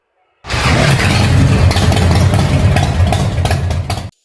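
A custom Yamaha Byson scrambler's 150cc engine idles steadily at close range, a loud, even chugging rumble that starts abruptly and stops after a few seconds.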